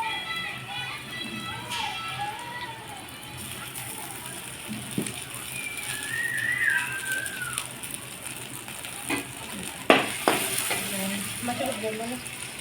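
A pan of onion paste sizzles steadily while a spoon clinks and scrapes, with voices and birds chirping in the background.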